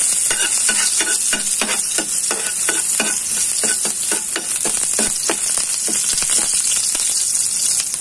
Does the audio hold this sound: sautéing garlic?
yes